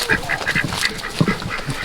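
Ducks quack repeatedly at feeding time on a small farm, a busy cluster of short nasal calls overlapping one another at close range with no talk.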